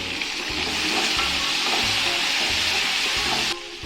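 Tomatoes and small onions fry together in a pan with a loud, continuous sizzle close to the listener, broken by a few rhythmic low scraping stirs and a sudden drop near the end, with no talking.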